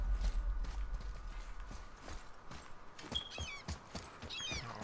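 Heavy mechanism in God of War as an axle is lifted, with low rumbling and scattered clunks and knocks, then creaking, ratcheting metallic squeals later on, moderately close.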